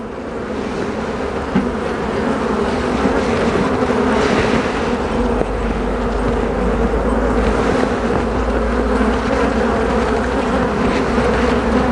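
Honey bees buzz continuously and close by during a hive inspection, a dense, steady drone that fills the whole stretch without pause.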